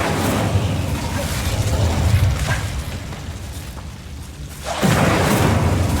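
The Incendio fire spell in Hogwarts Legacy bursts out as a rumbling, whooshing blaze, easing off briefly before a second loud flare of fire surges in near the end.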